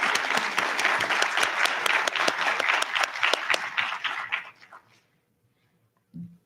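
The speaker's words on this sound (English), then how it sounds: "Let's have a round of applause for our members." Audience at a National Honor Society induction ceremony at McGuffey High School gives a round of applause for its members, dense indoor clapping that tapers off and stops before five seconds, followed by brief silence and a short low sound.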